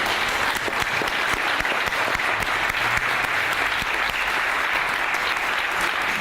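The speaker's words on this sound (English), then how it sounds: "Let's give them a round of applause." An audience at a community health event at Allen Temple in Oakland breaks into applause, a dense, steady clapping that fills the whole stretch with no talk over it.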